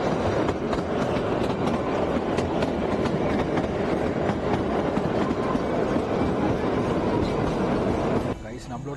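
Kalka–Shimla narrow-gauge toy train, the Shivalik Deluxe Express of Indian Railways, rolling along mountain rails with a steady loud rumble and rhythmic clickety-clack throughout, easing slightly near the end.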